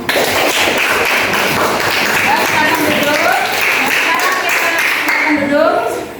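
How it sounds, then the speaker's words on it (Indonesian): Classroom of students applauding a presenting group during a lesson on series and parallel electric circuits, a dense, steady patter of many hands clapping close by, with children's voices calling out over it. "tepuk tangan dulu untuk kelompok 1"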